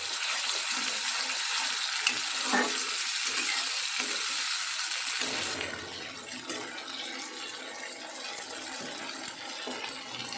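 Cumin, dried chillies, a bay leaf, asafoetida and a tomato, ginger, cashew and green chilli paste hit oil left from frying potatoes for a vegetarian aloo dum, giving a loud, dense sizzle that settles into a steady, quieter frying hiss.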